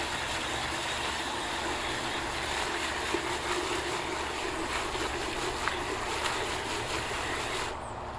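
Water is poured over ashy residue from burned plastic IC chips during gold and silver recovery, making a steady, continuous rushing wash that runs unbroken for several seconds before easing off near the end.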